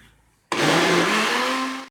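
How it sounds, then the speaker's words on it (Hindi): An electric blender churns cream into homemade butter, starting abruptly with a loud, steady whirring motor drone that holds for over a second, then cuts off. "हर 30 सेकंड के बाद मैंने ब्लेंडर को रोका और 7 मिनट तक मैंने मशीन चलाई है।"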